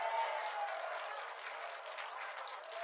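Audience applause at a church sermon gathering, a steady broadband wash of many hands clapping at moderate distance, sustained evenly throughout with no voices over it.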